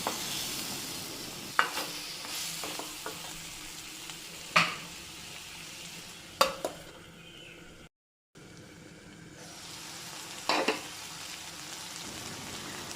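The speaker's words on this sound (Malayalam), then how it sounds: "രണ്ട് തക്കാളി എടുത്ത് വെച്ചിരുന്നുള്ളത് ചെറുതായിട്ട് കട്ട് ചെയ്ത് അതിലേക്ക് ഇട്ട് കൊടുക്കാം എന്നിട്ട് നല്ലതുപോലെ ഒന്നിളക്കി യോജിപ്പിക്കണം" Chopped tomatoes being stirred into okra curry frying in a pan, with a steady sizzle broken by several sharp scraping strokes of the spoon and one brief silent gap, close and clear with no speech.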